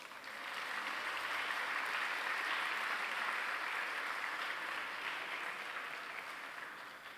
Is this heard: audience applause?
yes